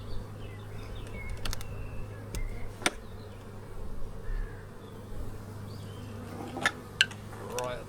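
Honeybees from a strong colony hum inside an opened hive during an inspection, a steady low drone running throughout with scattered clicks and knocks of handling on top.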